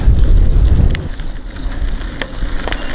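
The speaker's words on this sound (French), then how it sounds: "Depuis tout à l'heure je pédale contre le vent là." Rough, low-pitched wind rumble buffets the microphone, loudest in the first second, then easing into a steadier gusty roar.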